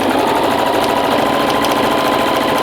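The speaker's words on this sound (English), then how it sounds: "This machine sews very straight, which is great." A sewing machine runs steadily while stitching a seam on a homemade fabric face mask, a close, even mechanical whir that continues unbroken with no talking.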